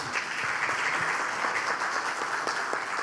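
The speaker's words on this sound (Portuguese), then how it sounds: "Gente, eu peço uma salva de palmas para o nosso palestrante." An audience at a lecture gives a fairly soft, even round of applause for the speaker, a dense patter of claps that holds steady throughout.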